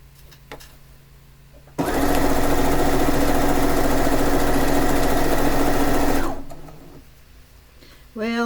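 A sewing machine stitches quilt pieces together in one loud, steady, close run of about four seconds, with quieter handling noise before and after.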